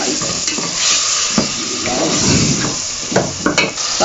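Tomatoes sautéing in a pan of turnip and meat curry, a loud, steady sizzle broken by scraping spoon strokes and a few clinks against the pan, with no speech.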